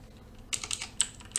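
A handful of quick keystrokes on a computer keyboard, light close clicks in a short irregular burst after a brief quiet moment.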